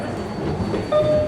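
A New York City subway train at its last stop rumbles loudly and steadily nearby, with a thin metallic squeal rising near the end.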